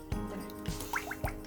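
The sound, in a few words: coconut oil poured into a kadai (wok)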